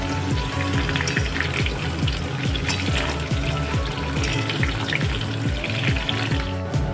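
Vegetables frying in oil for vegetable biryani with a busy, close sizzle and bubbling crackle, steady throughout and no one speaking.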